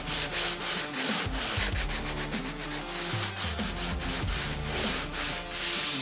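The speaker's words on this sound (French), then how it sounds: "Et en même temps, je mets juste un petit coup d'abrasif." Flexible 120-grit abrasive rubbed by hand along a window rebate groove, a steady, close scratchy sanding with quick back-and-forth strokes and no talking.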